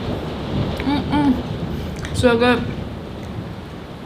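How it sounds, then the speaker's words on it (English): Rain falling outside with low rumbling thunder, a steady wash of noise heard from indoors while a voice speaks briefly over it. "It's raining right now."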